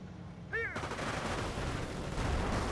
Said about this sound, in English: Goes a bundle grenade.